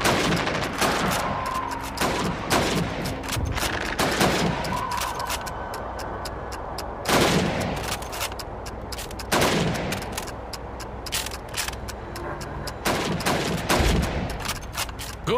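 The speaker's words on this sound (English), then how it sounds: "You have 15 seconds to shoot the helmets." Rifle gunfire in Call of Duty 2 as helmets are shot on a Red Army training range: sharp, loud single shots fire at irregular intervals over about fifteen seconds, each followed by a short echo, over a faint background hum.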